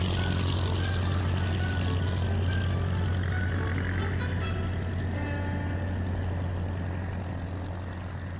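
An aircraft engine running in a radio drama scene, a steady low droning hum that holds at an even level throughout, with no voices over it.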